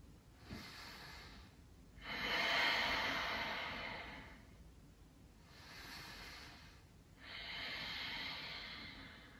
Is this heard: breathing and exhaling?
yes